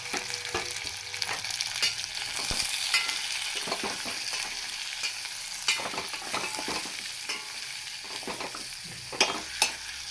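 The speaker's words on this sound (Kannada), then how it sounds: "ಕೊಬ್ಬರಿ, ಜೀರಿಗೆ, ಧನಿಯಾ ಪುಡಿ ಎಲ್ಲ ಹಾಕ್ಕೋಬೇಕು." Grated coconut, cumin and coriander powder frying in a pan with tamarind for a greens dish, crackling sizzle at close range punctuated by sharp scraping stirs of a spoon against the pan.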